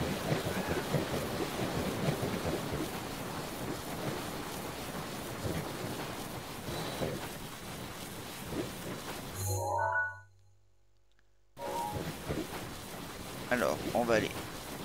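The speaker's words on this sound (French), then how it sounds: "Alors, je vais vers une tempête, j'ai l'impression." Stormy weather in The Legend of Zelda: Breath of the Wild outside Gerudo Town, with steady rain hiss and low thunderous rumble throughout, a brief near-silent gap, then the storm resuming under a voice.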